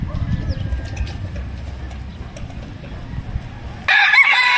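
A Tornado Hatch broodstag rooster crows once near the end, loud and close, after a stretch of low farmyard rumble and faint background sounds.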